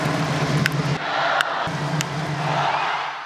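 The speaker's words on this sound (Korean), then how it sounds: "대구 라이온즈파크의 만원 관중은 열광했습니다" A sold-out crowd at Daegu Lions Park roars during a Samsung–LG postseason baseball game, a dense, sustained wash of cheering and shouting with a few sharp whistles and cries rising out of it.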